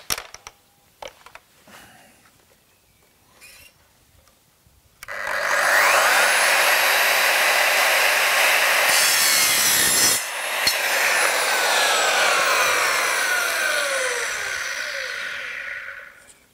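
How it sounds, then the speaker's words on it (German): Quiet handling noises, then a miter saw spins up and cuts through an aluminium floor profile with a loud, sustained metallic screech that dips briefly midway. "Aluminiumprofile zum Schneiden. Nehmen Sie eine Kappsäge."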